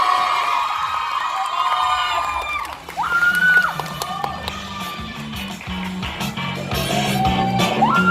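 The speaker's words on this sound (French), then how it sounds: "Et je vais vous demander d'accueillir très chaleureusement Mega Absol de Pokémon. On l'applaudit." An audience at a cosplay contest cheers and applauds loudly for a Mega Absol Pokémon cosplayer, with whoops and shouts filling the crowd noise. Tonal music and sound effects run throughout.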